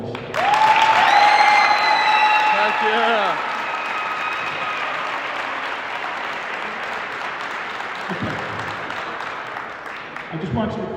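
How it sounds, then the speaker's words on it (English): Crowd applause for senior athletes at a senior night recognition, loud and sustained for about three seconds then settling into steady clapping, with whistles and cheers on top and a person speaking briefly over it. "I want to give all of these kids a tremendous round of applause"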